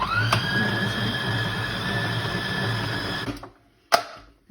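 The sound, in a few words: mixer beating orange zest into cupcake batter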